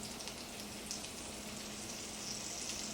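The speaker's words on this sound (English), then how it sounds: "Hear them sizzling." Steady, quiet sizzling of seasoned Brussels sprouts frying in a pan, a continuous crackling hiss with no talking.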